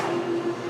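An Amtrak P156 train at the BWI railroad station, heard as a brief, steady rumble with a sustained tonal hum, moderately loud and with no talk.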